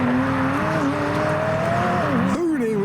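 A McLaren 600LT is driven hard past at close range, its engine note rising and sliding through gear changes, with a Porsche Taycan following behind in a hypercar convoy.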